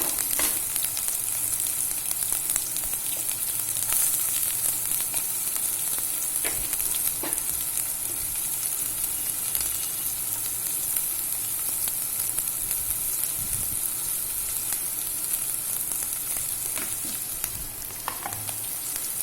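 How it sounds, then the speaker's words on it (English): Chili and onions frying in a pan for Koli Lal Dal, a dense continuous sizzle and crackle with occasional stirring scrapes, close and steady with no talking. "while the chili is sizzling, I'm going to add the onions also"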